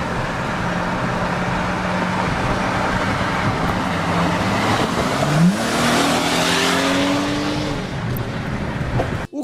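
A Mercedes-Benz AMG GT drives past with a rising engine note and brief tire squeal, swelling loud in the middle and then fading, over a constant road noise bed.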